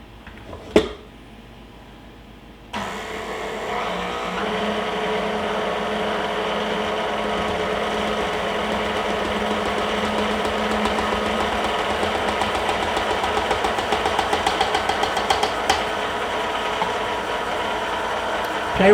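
A stand mixer creams softened butter and sugar for a buttermilk pecan pie, starting with a thump and then whirring in a steady, close mechanical drone with a faint rhythmic rattle that continues throughout.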